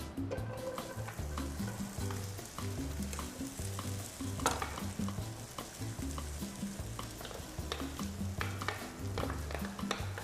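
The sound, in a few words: corn being roasted in a pan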